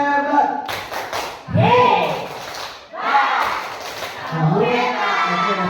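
A group performs the 'tepuk hebat' clap chant in an Indonesian teacher-training classroom session: rhythmic bursts of hand claps mixed with voices chanting together, loud and close, in several short phrases.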